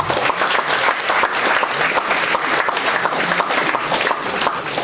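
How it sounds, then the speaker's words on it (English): An audience at a one-day college MBA workshop applauds a guest speaker, a dense, steady burst of many hands clapping for several seconds, loud and continuous throughout. "Let's all give a big round of applause for him."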